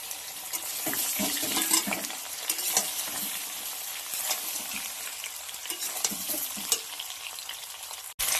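Mango pieces fry in a pan with five-spice and dried red chillies, giving a continuous close sizzle broken by the scrape and rustle of steady stirring.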